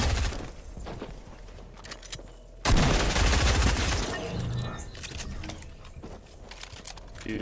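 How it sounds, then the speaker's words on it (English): A drum gun firing in a shooter video game, a loud sustained burst of rapid fire that hits suddenly partway through and then tails off into scattered shots, with players talking around it. "Dude, it's a drum gun."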